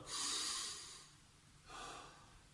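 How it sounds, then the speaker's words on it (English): During a home workout, someone takes two big, deep breaths close by, each a hissing, airy rush, the first longer and louder than the second, with no talking. "so there's big, deep breaths now"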